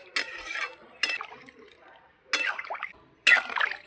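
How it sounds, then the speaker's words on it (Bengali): Water is splashed into a pan of sizzling masala and chicken stomach in several short bursts, each a sharp hiss and bubble that fades, close up with quiet gaps between. "এবার আমি জল দিয়ে দিচ্ছি।"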